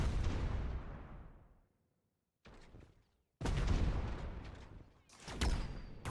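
Gunfire in a video game from a phoenix shooting down from the sky, coming as loud booming bursts that decay into rumbling tails, separated by a brief silence, close and without voices.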